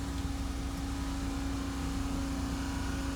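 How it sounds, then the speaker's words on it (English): A steady, droning generator hum from a train power car in the video game Trainz, with a strong low tone, runs unbroken throughout at constant speed. "That is the sound of a generator."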